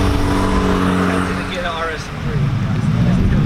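An Audi RS3 engine growling loudly nearby at a car meet, its note dipping briefly and then swelling again under a speaking voice.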